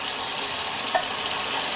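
Kitchen tap water running steadily into emptied tomato sauce cans to rinse out the leftover sauce while cooking spaghetti, a constant close hiss with no one talking.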